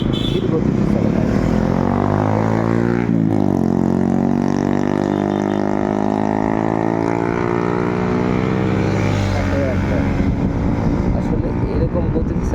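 Motorcycles speed across Kamarkhali bridge on Eid day, their engines roaring loud and close, with a rising-then-falling pitch sweep as a bike passes and a steady engine drone throughout.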